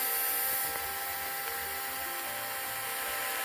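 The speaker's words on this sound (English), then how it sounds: "start the drill" An electric drill whirs steadily, boring holes into a plastic hummingbird feeder, a continuous motor whine that holds fairly even throughout with no talking.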